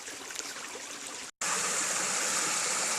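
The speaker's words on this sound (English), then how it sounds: "You got a little rock formation there, little mini falls." Steady rushing and splashing of water tumbling over a small creek fall, continuous and close, with one brief dropout partway through.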